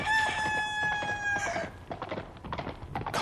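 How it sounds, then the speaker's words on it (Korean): A rooster crows once, close and clear, with a long sustained call that breaks off into clucking and scattered rustling noises afterward. "호련히 꽃기호 닭울음 소리가 났다."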